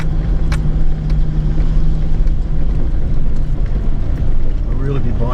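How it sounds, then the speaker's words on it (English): 4WD in low range with limited slip diff turning on a slippery track, tyres gripping and sliding over a steady engine rumble, with a person talking throughout. "you really hear the tyres gripping as I turn this corner"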